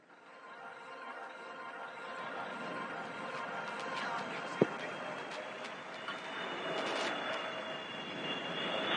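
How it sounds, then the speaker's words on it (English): A fighter jet decelerating in flight at the Aero India 2025 air show produces a broad, steady distant engine roar that slowly swells, with a brief sharp tick midway and no talk. "The aircraft is decelerating to speeds of as less as 240 kilometers per hour."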